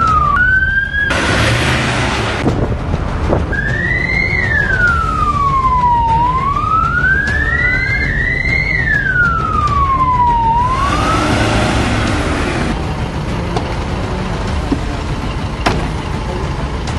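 An ambulance siren wails loudly and continuously at close range as the vehicle drives out on an emergency call, its tone sweeping up and down in long rising and falling cycles over steady road noise.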